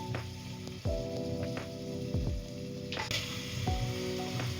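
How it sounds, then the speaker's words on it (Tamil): Tomatoes hit hot oil and ginger-garlic paste in a pan for mutton biryani, giving a steady close sizzle with occasional soft stirring clunks throughout. "இந்த பிரிஞ்சு வந்த உடனே தக்காளி ஆட் பண்ண வேண்டும்."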